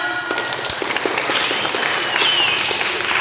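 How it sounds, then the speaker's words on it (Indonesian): Church congregation clapping during a Sunday school children's story sermon, a loud, continuous burst of applause filling the room without any voices. "Ya, kita beri tepuk tangan."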